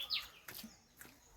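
Brief, faint bird chirps among the trees and foliage of Ranganathittu bird sanctuary in Karnataka, with one bright high tweet near the start and softer calls after it in a quiet outdoor setting.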